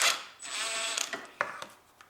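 A ratchet works loose the drive shaft bolts on a Honda Civic, giving quick bursts of close metallic clicking separated by short pauses and sharper single clacks.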